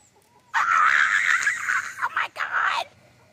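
Backyard laying hens give a loud close cackle and clucking run from inside the coop in late afternoon, a single sustained call broken by short pauses.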